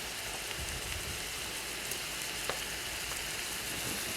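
Food sizzles in a hot pan during cooking, a steady hiss with faint pops and crackles throughout, alone without talk.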